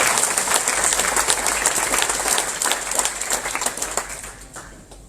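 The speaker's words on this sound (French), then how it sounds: "Alléluia, applaudissez le Seigneur." A church congregation applauds steadily during a French-language worship service, dense clapping holding for several seconds before thinning out toward the end.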